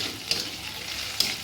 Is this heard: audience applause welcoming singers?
no